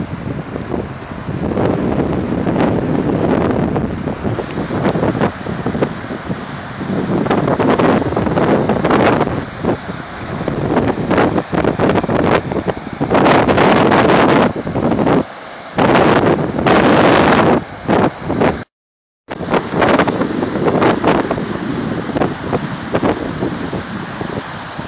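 Floodwater rushes through a usually dry creek at a flooded RV park, a loud continuous roar of churning water mixed with heavy wind buffeting the microphone, with a brief dropout near the end.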